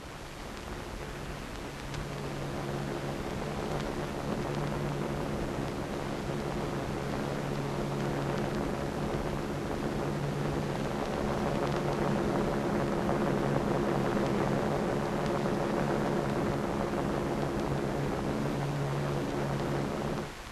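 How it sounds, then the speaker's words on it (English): A steady, droning roar of aircraft engines carries on without pause as the bomber Dave's Dream flies toward the Bikini target, escorted by photographic, weather and instrument planes. The sound is a dense, even hum with no voices. "With her escort of photographic and weather and instrument planes, Dave's Dream proceeds to the Bikini target"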